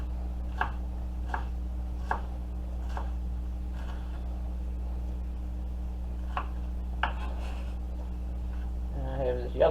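Knife chopping leftover green pepper on a cutting board, a series of sharp, evenly spaced taps near the mic over a steady low kitchen hum, ending with a brief voice.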